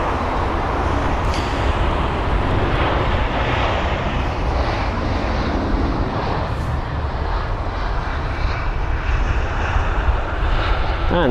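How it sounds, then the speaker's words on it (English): A British Airways Airbus A319 arriving at London Heathrow from Aberdeen gives a continuous, fairly loud jet roar with steady engine rumble throughout. "BA9253, a flight from Aberdeen to London Heathrow"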